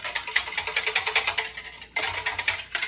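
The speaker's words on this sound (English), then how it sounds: "Now I'm gonna go ahead and whisk this up." A whisk beats sweet and sour sauce made with coconut aminos in a bowl, producing rapid, rhythmic clicking strokes close up, with a brief pause near two seconds before the quick tapping resumes.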